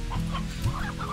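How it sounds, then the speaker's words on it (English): Video game chickens cluck in a quick series of short, close clucks over about a second, with no talk. "Chickens!"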